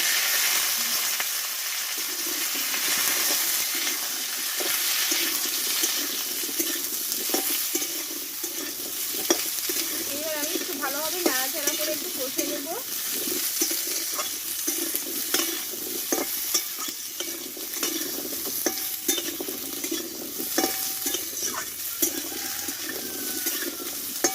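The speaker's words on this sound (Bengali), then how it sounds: "এবার কেটে ধুয়ে রাখা গাজরগুলোকে দিয়ে দেবো" Chopped, washed carrots with black mustard seeds, bay leaf and chilli frying in oil for a sweet-sour carrot pickle, a constant bright sizzle with scraping and stirring strokes throughout, no voices.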